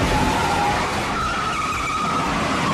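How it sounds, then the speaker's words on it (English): A car skidding during a street chase in The French Connection, a sustained tire squeal wavering in pitch over a loud steady engine roar, close and continuous. "during a chase scene, Gene Hackman's car is T-boned by another car"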